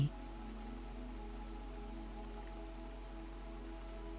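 Gentle rain patters against windows at night in a pottery studio, a soft, steady hiss of drops over a low constant hum, with no voices.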